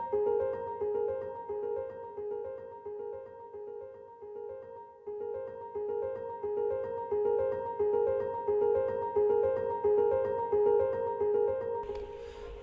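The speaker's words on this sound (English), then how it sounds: "I wanted to also bring this piano sound in because it connected with the first track on the record" Soft repeating piano pedal figure, a steady pulse of sustained mid-range notes played quietly and evenly, with a faint swell and a brief noisy flick near the end.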